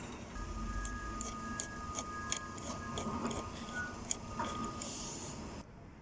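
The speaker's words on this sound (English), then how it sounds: "So we're going to be taking this bolt out to connect your earth to." A ratchet undoes a 13mm bolt inside a 2020 Ford Mondeo. Quick, fairly crisp clicks come in an uneven run over a low steady hum, then stop abruptly near the end.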